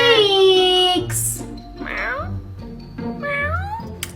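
A cat in a kennel meowing loudly and close, one long drawn-out yowl followed by a few shorter, rising meows, with faint voices in the background.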